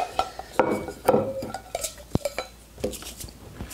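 Metal camping cooking gear clinks and rattles as it is handled, giving a close, irregular series of light clanks and scrapes with short ringing tones.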